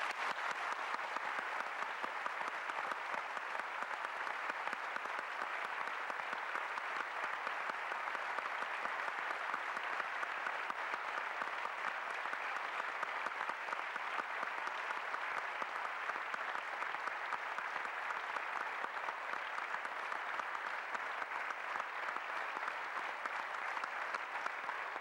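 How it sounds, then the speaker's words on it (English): Audience at a church testimony event gives a long, even round of hand clapping, a dense steady applause from many people that holds at the same level for the whole stretch, with no voices standing out. "if you'd accept our thanksgiving and our appreciation by way of a good hand clap"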